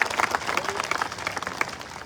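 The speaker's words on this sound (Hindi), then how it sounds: "जोरदार ताली बजा करके इन साथियों का स्वागत करिए।" A crowd at a political party youth workers' conference in Ambedkar Nagar claps steadily to welcome new members, a dense, moderately distant patter of applause with no voices over it.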